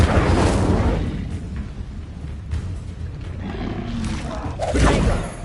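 Incendio fire spell cast in Hogwarts Legacy, a loud roaring burst of flame with rumbling, booming swells that fade and then surge again near the end, close and dense with no talk.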